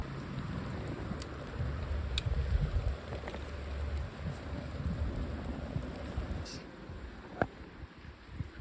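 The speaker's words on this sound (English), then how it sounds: "It's raining quite a lot," Steady rain hisses throughout in the Stockholm Archipelago, with a low rumble underneath and occasional sharp drips or taps standing out near the end.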